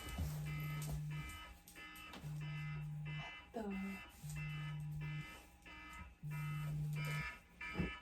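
A phone alarm goes off in a steady repeating pattern of loud one-second beeps with short gaps between them, under a voice.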